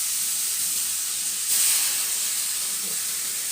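Water splashed into a hot pan of stir-frying long beans with pork belly sends up a broad, steady steam hiss. The hiss surges briefly midway, then settles into a continuous close rush, with no talking.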